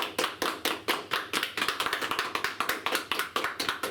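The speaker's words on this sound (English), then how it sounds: "we're going to make as much noise as we can as I introduce the newly married Mr. and Mrs. Trudeau." Wedding guests clap for the newly married couple, a dense and fairly close round of applause that keeps a steady rhythm for four seconds.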